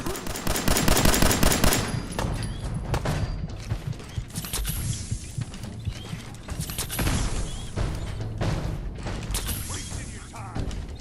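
Rapid automatic gunfire from the Fallout 4 video game, dense bursts of shots crackling continuously throughout, loudest at the start, with brief gaps and faint game noise between volleys.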